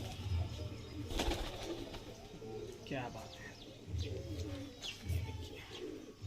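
A pair of Madrasi pigeons released in Shirdi, Maharashtra, giving low throaty coos and short chirps, with someone speaking over them.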